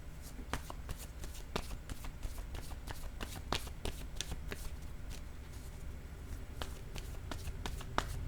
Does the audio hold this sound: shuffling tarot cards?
yes